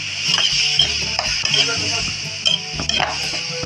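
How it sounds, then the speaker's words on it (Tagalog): String beans stirred in a frying pan over steady sizzling, with repeated scraping and clinking of a utensil against the pan at close range. "Mix together."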